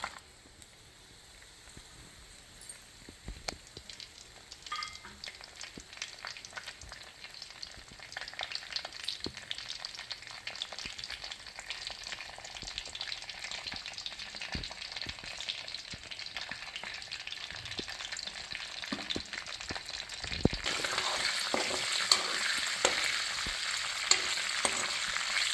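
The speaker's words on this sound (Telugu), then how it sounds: "ఇప్పుడు కరివేపాకు, ఎల్లుల్లిపాయలు, ఎండుమిర్చి యాడ్ చేద్దాం." Curry leaves, garlic and dried red chillies hit hot oil already spluttering with mustard and cumin seeds for gongura chutney, giving a dense, crackling sizzle that grows louder and brighter toward the end, with occasional stirring scrapes.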